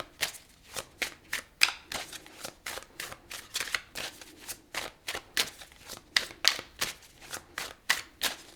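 Tarot cards being shuffled for a reading, a quick run of crisp riffling bursts repeating at a steady rhythm, close and fairly quiet with no talk.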